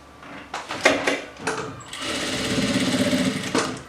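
A sewing machine stitches a narrow seam along the edge of fabric for bias binding, starting with a few short bursts of stitching and then running in a steady whirring rattle, close up.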